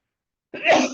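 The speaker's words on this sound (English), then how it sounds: "sorry, had to sneeze." A single close, sharp sneeze bursts out after half a second of silence.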